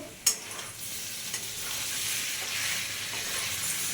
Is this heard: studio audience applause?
no